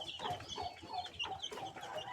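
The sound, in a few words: newly bought chicks chirping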